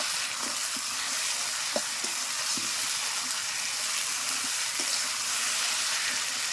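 Spice masala with ginger, garlic, cumin, coriander, chilli and onion sautéing for a mutton curry over a stove, a soft steady sizzle with faint scattered stirring taps, fairly quiet and without talk.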